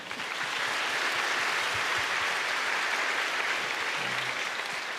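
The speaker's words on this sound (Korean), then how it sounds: "청년 예배자들을 축복하며 또 격려하며 박수하시겠습니다" Sustained applause from a large church congregation at a worship service, dense and even throughout with no pauses.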